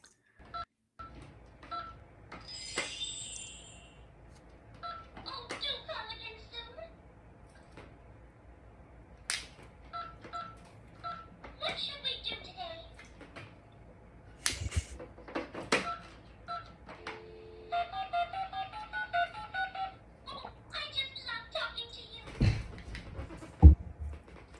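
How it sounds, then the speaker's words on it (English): Button tones from a toy mini phone, short electronic beeps in scattered bursts separated by quiet gaps, plus occasional clicks and knocks from handling, fairly faint and close. "Thea wants you to make a different kind of phone call on her mini phone"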